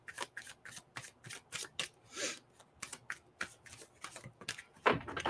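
A deck of Heal Yourself reading cards being shuffled, a quick series of crisp riffling bursts in steady rhythm, close and clear with no talking.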